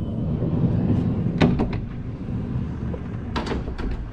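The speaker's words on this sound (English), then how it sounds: "Open the door up." Door of a Mercedes Sprinter motorhome opening, with a couple of close mechanical clunks and latch clicks over a low steady hum.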